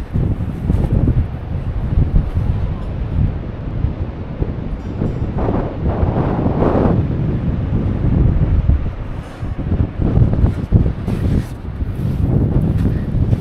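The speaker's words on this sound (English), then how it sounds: "A bit windy around here" Strong seaside wind buffets the microphone in loud, rumbling gusts, rising and falling continuously, with a faint wash like distant surf beneath.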